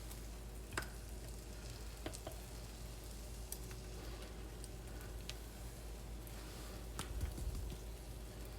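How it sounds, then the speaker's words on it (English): Butter and flour sizzle quietly in a skillet under a steady low fry, with faint scattered clicks and taps from whisking and a slightly busier patch near the end. "Now we'll whisk together until they turn golden."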